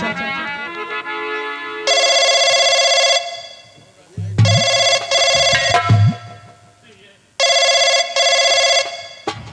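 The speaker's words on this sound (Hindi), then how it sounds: "अब मुझे इंस्पेक्टर साहब को फोन करना चाहिए, फौरन फोन मिलाना चाहिए" An electronic telephone rings in repeated loud bursts with pauses between, and someone speaks during one of the gaps.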